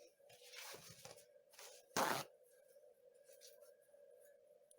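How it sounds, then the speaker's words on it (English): Short rustles of paper towels being grabbed, then one loud quick tearing rip from a roll, close and alone in a quiet room. "So I'm going to grab some paper towels."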